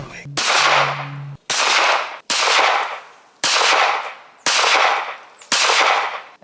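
An AR-15 or a double barrel shotgun fires six loud, sharp shots at close range, about one a second, each blast ringing out and fading before the next one.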